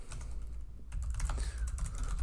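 Rapid, uneven clatter of keys on a computer keyboard during a coding session, close and crisp, with short pauses between bursts and no voices.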